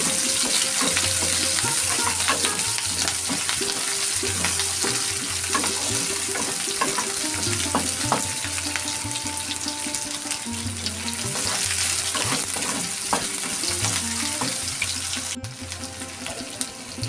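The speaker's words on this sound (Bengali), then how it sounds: "আর দিয়ে দেবো পেঁয়াজ দুটো কাঁচা লঙ্কা এটা একটু ভেজে নেব" Onion and green chillies frying in a pan for snake gourd and potato bhaja, a loud, continuous sizzle with occasional stirring clatter, close up and unbroken for the whole stretch, without speech.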